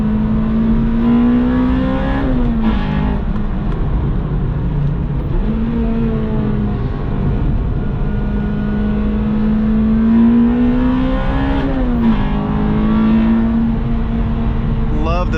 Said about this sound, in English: Love the VTEC howl.